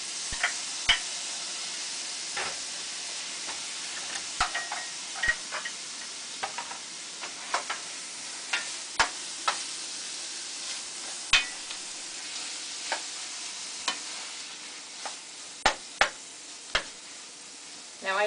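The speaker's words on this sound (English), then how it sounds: "I'm going to stir that in." Crab meat, both dark claw and lump, is stirred into buttery cooking creme in a pan, giving a low simmering hiss broken by a steady series of sharp spoon taps and scrapes against the pan.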